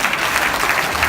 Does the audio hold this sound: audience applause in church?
yes